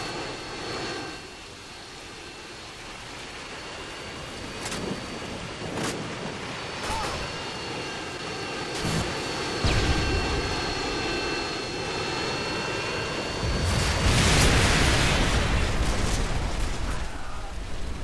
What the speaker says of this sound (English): Friendly Harriers inbound.